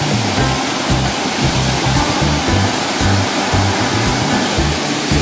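A waterfall at Mae Kampong roars in a steady, loud, dense rush of falling water close by, with no pause and no voices.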